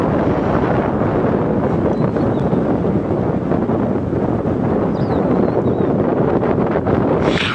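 Strong wind in the Masai Mara buffets the microphone in a continuous, loud rumble with gusty fluctuations throughout and no clear voices.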